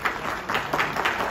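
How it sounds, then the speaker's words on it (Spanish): Audience applause for a speaker at a university conference, a brief rush of clapping from a modest crowd with individual claps audible in an uneven rhythm, fairly close and clear. "un aplauso"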